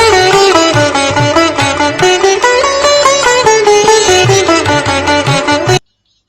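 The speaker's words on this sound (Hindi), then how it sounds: "सितार की आवाज थी" Sitar played solo with bright, buzzing plucked melody notes over steady low drone strings, continuous and fairly loud, stopping abruptly at the end.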